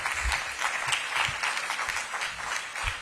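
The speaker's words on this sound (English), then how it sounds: "Let's give them a big round of applause." An audience gives a big round of applause for library staff at a DC mayor's announcement event, a thick, continuous burst of clapping from many hands throughout.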